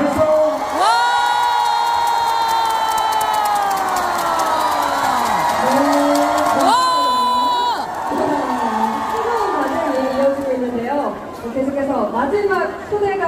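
Outdoor concert crowd at a song festival in heavy rain, loud sustained cheering and whooping with applause mixed in, a long roar rising again midway, while an announcer's amplified voice speaks over parts of it.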